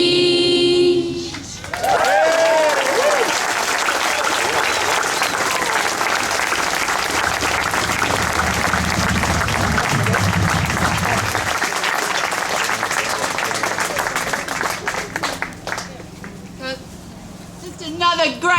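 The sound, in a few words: audience applause after a children's song at a rally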